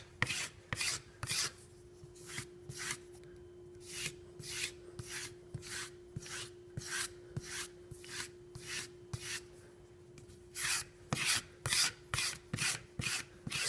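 A knife edge is stroked back and forth on a leather strop in crisp, rasping passes, repeated in quick runs with short pauses between groups, close and fairly quiet.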